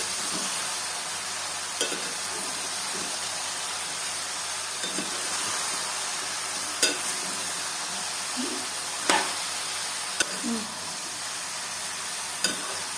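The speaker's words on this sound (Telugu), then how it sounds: "అంతా కలబెట్టుకుందాము." Steady sizzling in a pan of ridge gourd and tomato curry with turmeric, occasional scraping clicks of a spoon stirring, continuous and close, no voices.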